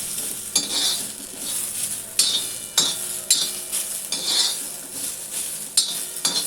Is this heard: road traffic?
no